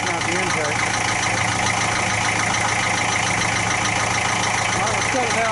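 A 1966 Austin London taxi engine runs for the first time in years, a steady, loud, close idling rumble with continuous mechanical clatter throughout, voices faintly mixed in.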